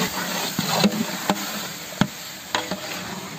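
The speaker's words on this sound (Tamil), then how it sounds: "நறுக்கி வச்ச தக்காளியை சேர்த்துக்கிறோம்." Chopped tomatoes added to sizzling bun biryani masala and stirred, a constant frying hiss broken by several sharp spoon-on-pan clacks and scrapes at irregular intervals, close up.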